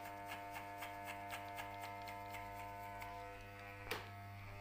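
An electric hair clipper buzzes steadily with the number-one guard fitted while cutting a short fade, a constant close hum with faint rhythmic ticking and a brief louder scrape near the end.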